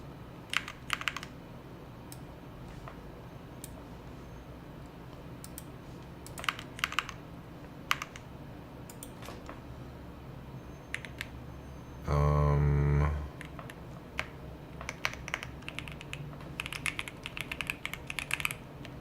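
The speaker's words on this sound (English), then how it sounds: "Can y'all see what I'm typing?" Typing on a computer keyboard during web development work, quiet bursts of close clicking keystrokes scattered across a long stretch, with a brief louder tonal burst partway through.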